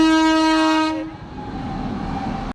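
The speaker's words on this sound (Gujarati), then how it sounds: "પાછો પાટો બંધ થઈ ગયો ટ્રેન આવવાની હતી એ માટે" A train rolls past a closed level crossing, its horn sounding loud and steady before giving way to the rumble and rattle of wagons continuing by.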